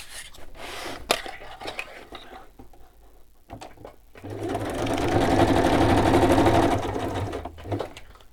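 A sewing machine stitches through paper book pages in a fast, steady mechanical rattle for a few seconds, preceded by scattered clicks and handling of the paper, fairly close.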